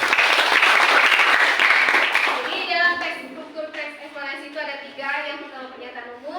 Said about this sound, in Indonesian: Kasih tepuk tangan untuk Sherin.